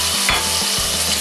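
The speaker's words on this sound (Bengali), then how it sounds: "একটু নেড়ে দিচ্ছি।" Chopped tomatoes being stirred into frying spinach dal in a pan, with a loud, steady sizzle of hot oil and a few scraping strokes of a spoon, close up and with no voices.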